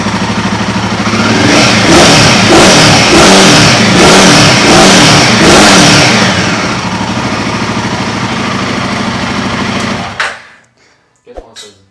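Royal Enfield Himalayan 450 motorcycle with an HP Corse exhaust and the catalytic converter removed, engine revved loud and close, held near 5000 rpm with a pulsing, raspy drone, then cut off sharply and fading to near silence.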